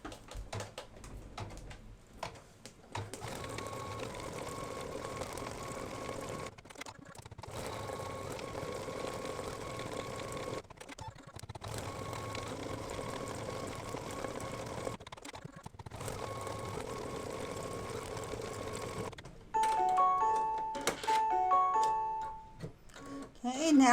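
Embroidery machine stitching the details of an in-the-hoop Go Fish game design, a steady fast mechanical whir and ticking that runs through most of the clip with brief pauses between sections.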